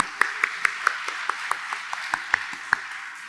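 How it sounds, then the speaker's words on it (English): At the ICNA Canada Convention 2023, the audience responds with sparse, evenly spaced claps, a few bright, ringing hand strikes standing out individually rather than merging into full applause, moderately close. "Let us give them a round of applause"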